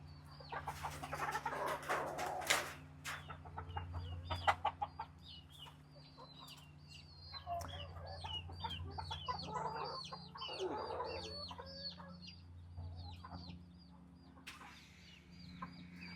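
Backyard chickens cluck steadily at close range, with sharper bursts of clucking and squawks early on, then softer continuous clucking and chatter from several birds over a low background hum.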